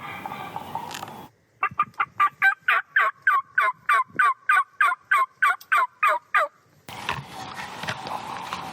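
Wild turkey gobbling during a Wisconsin spring hunt, a long run of about fifteen rapid evenly spaced gobble bursts, clear and fairly strong, set between stretches of outdoor background noise.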